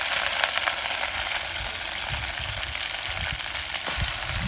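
Curry leaves sizzle and crackle in hot oil while a Chhattisgarhi saag is cooked, a steady loud frying hiss with sharper pops throughout, close up and with no speech.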